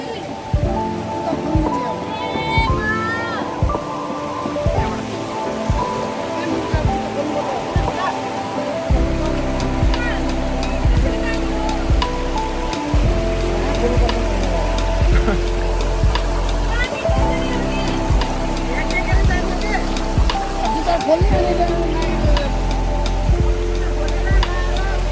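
A mountain stream rushes steadily over rocks during a long hike, a continuous close wash of water with footsteps, splashes and intermittent talk on top.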